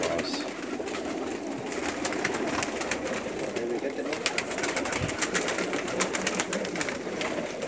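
A large collection of breeder pigeons of many breeds coos in a steady overlapping chorus, with soft flutters and murmured voices in the background.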